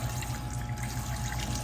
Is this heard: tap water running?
yes